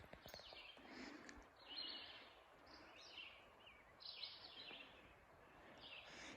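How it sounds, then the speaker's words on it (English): Birds sing in a green, fern-filled forest on the Appalachian Trail in New Jersey, with several soft, scattered chirps and trills at a distance over quiet woodland. "Listen to the birds."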